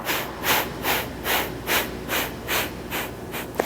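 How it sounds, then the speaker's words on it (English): Breath of fire yoga breathing, a steady train of about eight short, forceful exhales through the nose in an even rhythm, each a breathy puff close up and loud, with quick inhales between. "breath of fire in through the nose and short exhales out"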